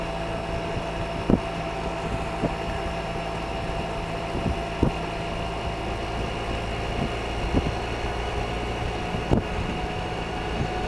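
A Yamaha T-Max scooter engine running at about 50 mph, heard through a lavalier microphone on a GoPro 2: a constant droning hum mixed with wind rush, broken by a few brief bumps and knocks, with no talking.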